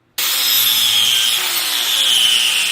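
Power tool cutting a 90-degree notch into a 12-gauge steel frame tube for a trike axle, a loud continuous grinding whine that starts abruptly and holds steady throughout.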